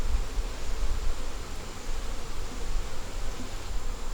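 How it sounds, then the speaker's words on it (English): Honeybees swarm over a frame lifted from an open hive, giving a soft continuous buzzing hum heard up close under faint rustling, with no voices. "That's chock full of bees."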